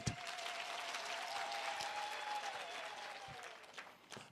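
Sustained applause from mourners at a funeral gathering for Ntshebe Khuzwayo in Nqutu, a dense patter of many hands that swells and then thins out toward the end, with no speech over it.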